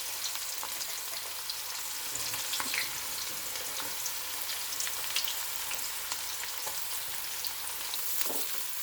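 Sliced onions frying in oil in a pan for a bottle gourd fish curry, giving a steady, even sizzle that holds unbroken throughout with faint crackles and no voices.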